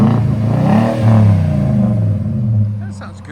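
A Nissan Titan pickup with its 5.6L V8 revs through an aftermarket exhaust, a loud, deep rising and falling drone lasting a few seconds before easing off.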